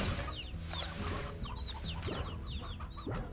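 Chickens cluck and chirp repeatedly in Slime Rancher, a busy overlapping chorus of short squawks and warbles, close and steady with no talk.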